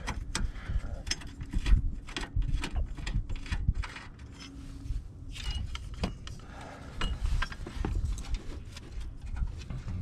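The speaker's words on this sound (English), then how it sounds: "10mm socket, you loosen this nut, and you remove this bolt" A 10mm socket ratchet loosening a nut on a 2007–2011 Toyota Camry headlight assembly, with rapid metallic ratchet clicks, rattling and clinking of tools and parts, close and moderately loud throughout.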